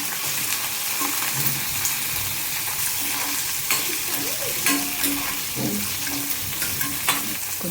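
Cumin and green chillies fry and get stirred in a pan for a ridge gourd tamarind chutney, a steady close sizzle with repeated scraping strokes of a spoon against the metal.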